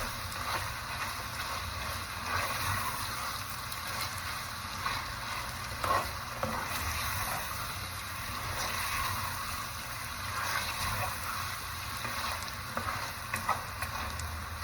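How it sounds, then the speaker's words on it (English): Chicken frying in a pan with oil, stirred and turned, giving a steady sizzle with scraping and clinking bursts throughout. No one talks. "Then you keep stirring it, guys. Keep turning it like this"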